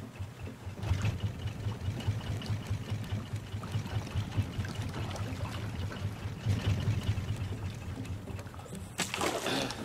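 Boat motors on a raft in the survival video game Raft chug with a steady, continuous drone mixed with watery sloshing, moderately loud for the whole stretch.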